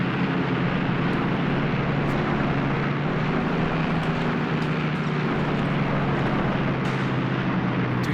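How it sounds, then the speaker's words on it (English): Warplanes diving and strafing trucks in the Graviteam Tactics Mius Front wargame, heard as a constant dense roar of aircraft engines and gunfire noise filling the whole clip without letting up. "That was an aggressive dive by that plane. Yeah, they are strafing some trucks."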